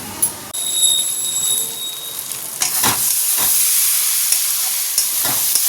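Food sizzles steadily in a hot pan over a gas flame, a dense continuous hiss with a few sharper spatters and crackles standing out near the listener.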